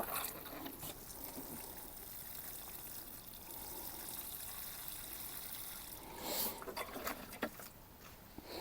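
Water pattering and trickling onto chive plants sitting in trays during dry weather, a steady soft wash with a few louder splashes near the end.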